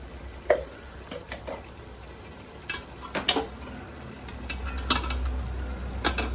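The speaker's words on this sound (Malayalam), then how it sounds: "ഇത് പതിയെ നോക്കി വേണം ഇളക്കാൻ. മീൻ പൊടിഞ്ഞു പോകരുത്." Spoon scraping and clinking in a pot while fish biryani masala with fried fish is gently stirred, irregular metallic taps and scrapes over a low steady hum.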